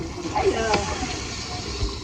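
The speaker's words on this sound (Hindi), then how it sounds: "हल्का सा पानी ऐड करते हैं जी" Water is added to lentils cooking for daal mash, a brief slosh and splash in the pot close by, heard under someone talking.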